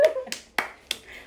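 Sharp hand claps, three in quick succession after a brief laugh-like vocal onset, close and fairly loud, during a live showroom stream.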